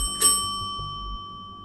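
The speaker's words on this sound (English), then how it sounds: "The doorbell rang." A single bright bell ding with a sustained metallic ring that slowly fades, heard alone in a quiet room.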